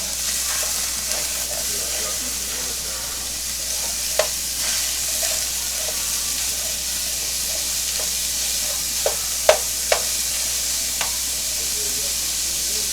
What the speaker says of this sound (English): I'm gonna take this ground meat and I'm about to cook it, basically